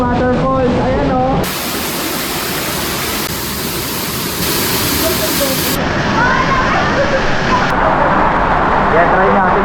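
Waterfall inside the Cavinti underground river and cave complex, a loud, constant rushing roar that fills the space; people talk and exclaim over it at the start and end.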